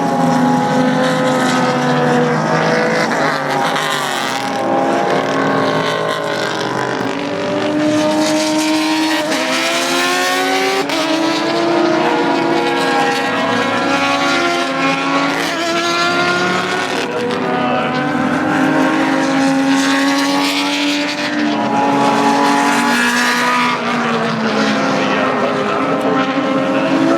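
Race cars at Daytona circle behind the pace car, a continuous loud engine roar that swells and fades as cars pass steadily, with no speech over it.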